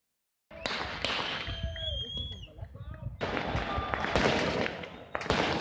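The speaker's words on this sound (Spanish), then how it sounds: "Fuegos artificiales mezclados con cánticos y también disparos al aire." Fireworks go off at a funeral in the Playa Ancha cemetery, mixed with gunshots fired into the air: a dense run of sharp bangs and cracks over crowd noise and chanting, with a brief pause partway through.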